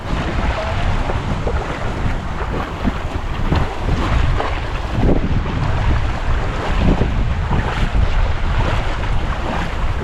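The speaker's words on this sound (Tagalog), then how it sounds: "Mahangin na lang po dito sa ilog." Loud, steady wind buffeting the microphone on a river, with a rushing roar and some lapping water noise underneath.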